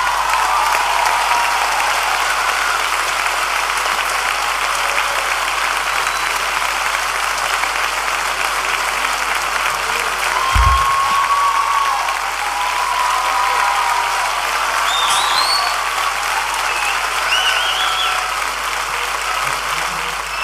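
A theatre audience at a live concert in Teatro Solís applauds steadily and loudly for the whole stretch, a dense, even wash of clapping with no voices over it.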